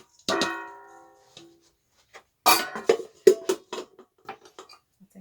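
A spoon clinks and scrapes against a dish while pressing a Hobnob biscuit and pecan cheesecake base, with a ringing tap first followed by scattered short knocks and scrapes.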